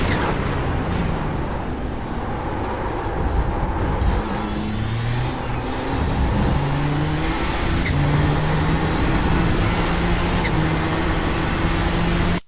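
Race car in the iRacing simulator at Interlagos, held at full throttle up through the gears, a loud continuous engine drone whose pitch climbs steadily with brief dips at quick upshifts, alone with no voices.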